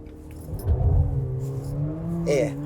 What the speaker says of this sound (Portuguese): Aqui você já percebeu que o ronco do motor já ficou diferente.